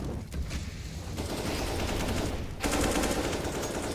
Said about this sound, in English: And the AWP for a kill on FolkHydra.